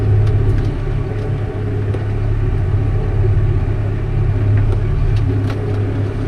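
A tractor pulling a Massey Ferguson 30 seed drill across a field, a loud, steady low engine drone close by with continuous rumble and faint rattles, no voices.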